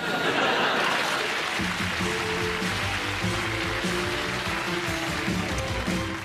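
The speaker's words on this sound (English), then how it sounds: "that applause from the audience there" Steady, dense applause from a studio audience at a British TV comedy taping, loud and continuous throughout, with a faint tonal hum or music underneath from partway in.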